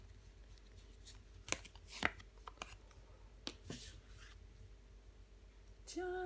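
Tarot cards handled and laid down on a table during a reading: a few soft, close taps and brushing card sounds scattered over quiet background, with no speech.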